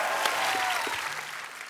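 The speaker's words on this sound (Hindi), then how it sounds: "और एक बार जोरदार तालियां रणबीर कपूर" Audience applause at a TV comedy talk show, steady and fairly distant, a soft wash of clapping that holds evenly and tapers slightly toward the end.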